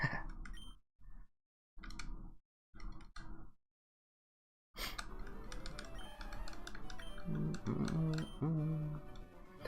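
Keyboard and button clicks from a gaming setup during a Pokémon FireRed reset grind, bursts of rapid typing-like tapping separated by pauses, then continuing under louder game music and background sound.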